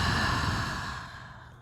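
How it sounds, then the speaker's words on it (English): A single long, soft breath exhaled during a yoga session, a faint airy whoosh that fades out over about a second and a half. "Exhale it out."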